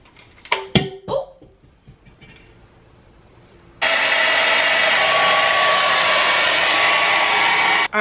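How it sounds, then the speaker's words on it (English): A hair dryer blow-drying natural hair switches on after a few handling clunks and blows with a loud, steady, close whoosh that runs unbroken for several seconds. "Now I'm gonna blow dry my hair."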